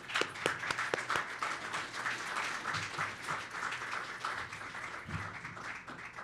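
A lecture-hall audience breaks into sustained applause as a speaker is welcomed to the stage, a steady wash of many hands clapping with a few louder nearby claps, no voices over it.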